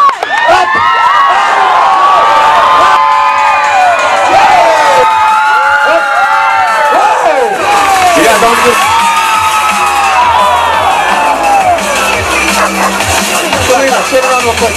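Crowd at the Sacramento County Fair clapping, cheering and whooping during a dog jumping show, a loud continuous roar of applause and shouting voices with children's shrieks throughout.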